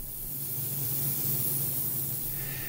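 Aerosol gray paint sprayed onto a model ship, a steady close hiss holding at even loudness for nearly three seconds with a low hum beneath and no talking.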